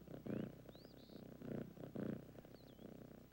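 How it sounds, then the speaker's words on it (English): A sweet, fluffy cat gives a soft purr in rhythmic rumbling pulses, about five or six breaths in a few seconds, quiet and close, with faint high whistling tones above. "Next, I need a sweet, fluffy cat with a nice, soft purr."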